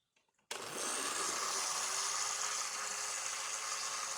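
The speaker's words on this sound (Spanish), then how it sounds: "a velocidad baja, vas a continuar licuando a velocidad baja" A blender whirs steadily at low speed while blending avocado mayonnaise with a continuous thin stream of olive oil, starting abruptly after a brief faint moment and holding an even, loud motor drone throughout.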